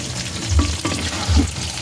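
Ginataang monggo, salted mung beans in coconut milk, stirred in a pan: two soft scraping, sloshing strokes of a spoon over a gentle simmering bubble, close and brief, without speech.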